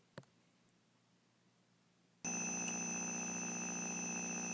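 A motor armature spinning at just under 1,000 RPM on unidirectional roller bearings starts abruptly after a quiet lead-in with a click, then holds a steady, loud humming whine with bright tonal overtones.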